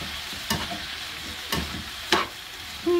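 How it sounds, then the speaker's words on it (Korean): Julienned potato and carrot sizzle in an oiled pan, with three or four distinct scraping stir strokes spaced about a second apart over a steady frying hiss. "충분히 볶아준다."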